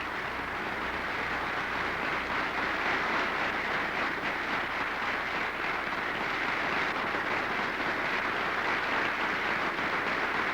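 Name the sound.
air show crowd applauding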